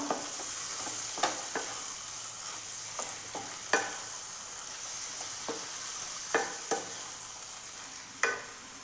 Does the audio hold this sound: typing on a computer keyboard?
no